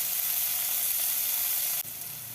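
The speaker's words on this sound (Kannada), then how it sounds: "ಚೆನ್ನಾಗಿ ಕೆಂಪಾಗೋವರೆಗೂ ಹುರ್ಕೋಬೇಕು." Chopped cluster beans frying in oil in a pan for palya, a loud continuous close sizzle with a brief dip near the end as the pan is disturbed.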